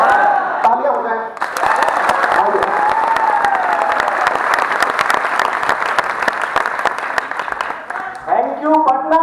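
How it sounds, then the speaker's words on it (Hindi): A large crowd at an educational meetup in Patna breaks into loud, sustained clapping with some cheering, framed by someone speaking briefly before and after. "शुरू कर दें, तालियां हो जाए।"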